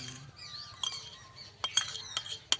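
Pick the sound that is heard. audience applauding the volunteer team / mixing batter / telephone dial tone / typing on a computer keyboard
mixing batter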